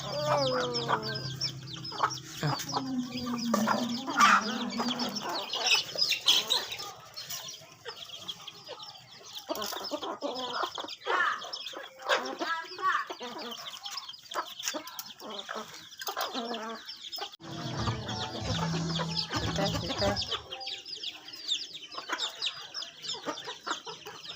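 Several chickens cluck and squawk continuously at close range while being fed, with busy overlapping calls and occasional louder cries.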